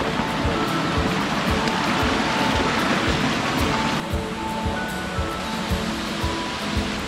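A waterfall in the Blue Mountains in a natural setting, a continuous loud rushing roar of falling water, steady and close throughout.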